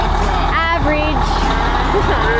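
A Western Star truck engine runs with a steady low rumble beneath the scene, while tonal squeals and vocal sounds ride over it.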